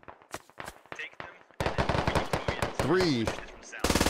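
Rapid bursts of MG3 machine gun fire in the SquadOps military shooter, loud and close, with scattered single shots early on and a dense rattling burst at the end, while a voice shouts over the gunfire.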